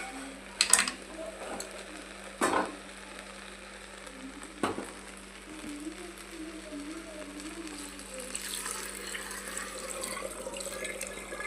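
Hot water poured into a cooking pot for vegetable pulao, with a few sharp splashing bursts near the start and a steadier hiss and sizzle building toward the end, close and moderately quiet.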